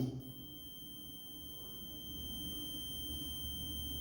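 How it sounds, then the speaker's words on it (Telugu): An electronics buzzer sounds once its switch is turned on, giving a thin, steady high-pitched tone that holds throughout, faint and alone over a low background hum. "బజర్ అనేది వస్తుంది"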